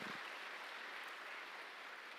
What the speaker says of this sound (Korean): 저희가 위로의 박수를 드리겠습니다